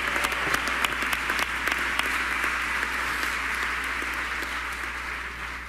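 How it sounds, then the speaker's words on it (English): Conference audience applause, dense clapping that is strongest at the start and then fades gradually to a softer patter, with no speech. "round of applause for them."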